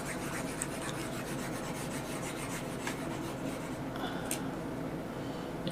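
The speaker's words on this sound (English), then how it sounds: "Let's erase our board." A board being erased for a math lesson: a soft, steady rubbing and scratching of an eraser across the surface, faint and continuous with no talk.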